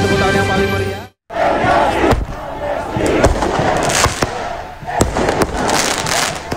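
Fireworks fired by pro-Palestinian protesters toward the Israeli embassy in Athens, Greece, crackle and bang repeatedly over a loud, shouting crowd, with sharp pops scattered throughout a chaotic street scene.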